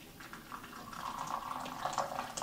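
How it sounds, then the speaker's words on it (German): Hot water poured from a kettle over turmeric in a cup or pot to make turmeric tea, a steady bubbling liquid pour heard up close and alone for a couple of seconds. "So, heißes Wasser drauf."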